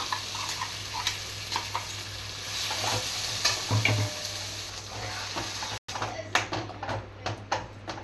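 Ground ridge gourd chutney being stirred into roasted onions and curry leaves in a hot pan, a steady close sizzle with scraping stir strokes throughout and a brief break near the end.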